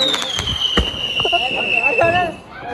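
Diwali firecrackers going off at home during the celebration: several sharp, loud bangs in quick succession, with a whistling rocket tone sliding across the clip and people talking excitedly around them.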